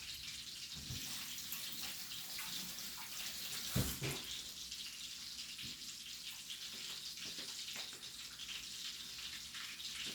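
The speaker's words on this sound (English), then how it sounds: "I'm going to rinse this off and then towel blot it" Steady running tap water splashes continuously into a sink while snapper fish is rinsed, with a brief louder gush partway through.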